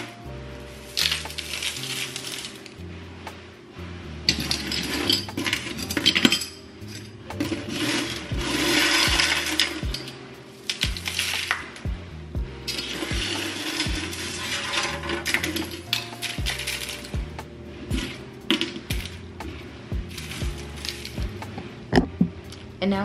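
Metal hair clips are tossed and set down on top of one another to dry after cleaning, giving close clinks, rubs and scrapes in irregular clusters with quiet gaps between them.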